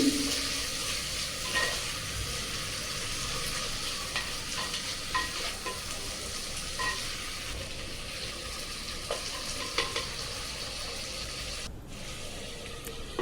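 Onions sautéing for a Madras masala beef gravy, a steady close sizzle with scattered scrapes and stirring clatter throughout, no talk.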